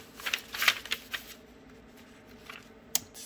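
A stack of paper is shuffled and rustled on an electronics workbench, with a few crisp, close flutters at the start, a quieter pause, then a sharp final snap of paper.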